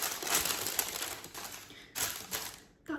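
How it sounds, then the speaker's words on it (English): Parchment paper crinkled and pressed onto a plate during Christmas baking, a close, continuous dry rustling and crackling with a few louder crunches near the end. "Parchment paper on a plate."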